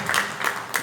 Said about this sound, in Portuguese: Uma salva de palmas para a Dalva